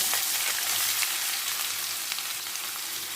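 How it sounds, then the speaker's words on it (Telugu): Onions, added to a pan with curry leaves for a stuffed spicy brinjal curry, frying with a loud, steady, close sizzle that holds constant throughout, with no talking. "ఇప్పుడు ఇందులోనే ఉల్లిపాయలు వేసాం."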